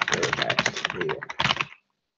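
Rapid clattery typing on a computer keyboard during an online meeting, close and fairly loud for under two seconds, then abrupt silence.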